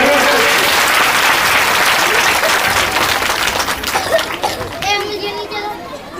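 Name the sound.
audience applause welcoming guests at Shiv Mahapuran katha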